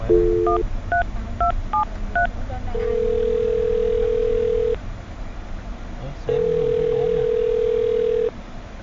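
Touch-tone dialing of a phone number: a quick run of about seven DTMF beeps, then two long steady ringback tones separated by a pause, loud and clear over faint background talk.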